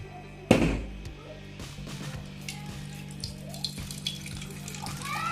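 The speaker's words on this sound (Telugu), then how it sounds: "ఒక గ్లాసులోకి వాటర్ తీసేసుకో" Water from a fresh green coconut pours steadily into a glass after a sharp knock at the start, with a thin, continuous splashing trickle and faint clinks in a quiet room.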